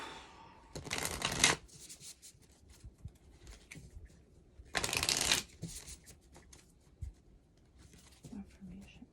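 Tarot cards are shuffled in two distinct bursts of rapid riffling, close and crisp, separated by a quiet pause with soft handling noises, ahead of drawing an affirmation card.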